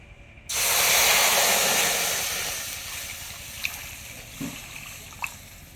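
Water poured into a hot wok for papaya chutney bursts into a loud hissing sizzle that slowly fades into a softer simmer, with a few faint clinks near the end.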